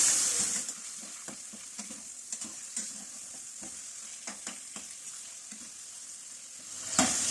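Chicken frying and being stirred in masala in a karahi pan, a steady soft sizzle broken by repeated scrapes and clacks of the spoon against the pan, with no talking.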